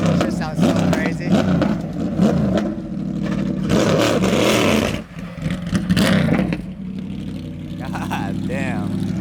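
A Ford GT sports car engine roars and revs loudly nearby at Laguna Seca, rising and falling in pitch, with people talking over it.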